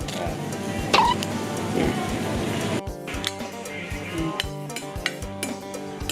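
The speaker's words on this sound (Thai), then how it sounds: "เริ่มจากคั่วก่อน อืมเนี่ยต้องคั่วให้มันสุกไง" Ingredients dry-roast in a pan for steamed snakehead fish, with light scraping and clinking of a utensil stirring at a steady pace under a faint background, and people talking briefly.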